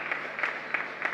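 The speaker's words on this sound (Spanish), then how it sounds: "Fuerte aplauso." A congregation applauds in church during Mass: a brief, fairly quiet spell of clapping with a loose, pulsing rhythm of several soft swells, heard from a little distance.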